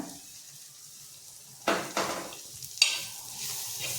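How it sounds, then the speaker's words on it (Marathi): Bitter gourd is stir-fried with grated coconut in a pan, a faint sizzle at first. Several sharp scraping bursts from a spatula against the pan follow, and a brighter, louder sizzle continues after them. "आता आपल्याला खोबरं टाकून परतायचं आहे"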